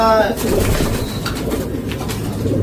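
Pigeons at a loft being readied for vaccination and shipping coo steadily and close by, layered with soft rustling and background noise, with a brief birdlike chirp at the start.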